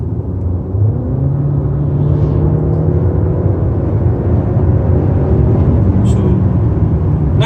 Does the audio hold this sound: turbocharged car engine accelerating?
yes